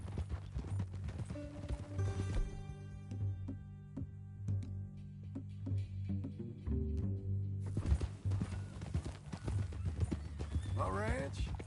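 Rhythmic clip-clop of horse hooves in Red Dead Redemption 2, under music and a voice, with a horse whinnying near the end.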